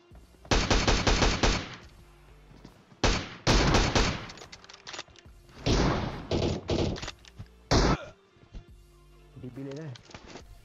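Rapid bursts of automatic rifle fire in PUBG crackle in several loud volleys, separated by short pauses, with a voice talking near the end.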